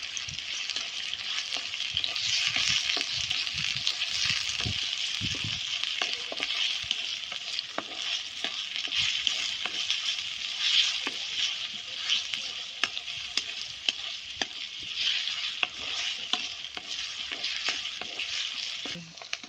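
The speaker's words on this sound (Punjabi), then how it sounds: "ਆਪਾਂ ਇਹਦੇ ਵਿੱਚ ਪਾ ਦਾਂਗੇ ਜੀ ਇਕੱਠੀਆਂ ਹਰੀਆਂ ਮਿਰਚਾਂ ਤੇ ਪਿਆਜ਼ ਇਹਨਾਂ ਦੋਨਾਂ ਚੀਜ਼ਾਂ ਨੂੰ ਆਪਾਂ ਇਕੱਠਿਆਂ ਨੂੰ ਭੁੰਨ ਲਾਂਗੇ" Green chillies and onions fry in hot oil with a dense, continuous sizzle, broken by frequent scrapes and taps of a stirring spoon, close and steady throughout.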